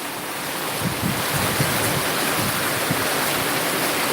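Strong storm wind roars steadily over open countryside in a rural village during a gale, a loud continuous rushing blast with low gusty buffeting on the microphone and no voices.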